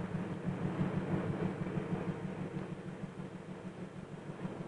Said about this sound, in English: The front brakeman pilots the diesel engine to the departure track at the freight station.